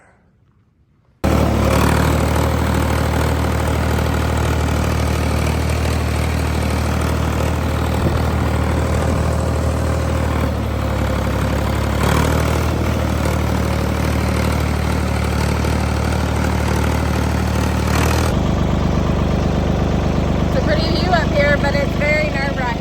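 A tractor engine idles steadily and loudly after a quiet start, on steep ground where a post driver is in use, a constant low rumble that runs throughout with little change.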